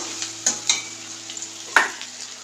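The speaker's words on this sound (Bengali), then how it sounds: "বেশ খানিকক্ষণ ধরে নাড়াচাড়া করতে হবে যাতে তেলে ভালো করে মশলাগুলো গলে যায়" Spices are stirred in hot oil in a pan, a soft steady sizzle broken by a few sharp scraping strokes of the spoon, close and without talk.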